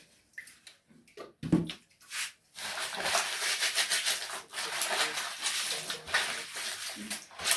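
Passionfruit being washed by hand in water before juicing, with splashing and rubbing that begins in short bursts and then settles into continuous, fairly loud sloshing.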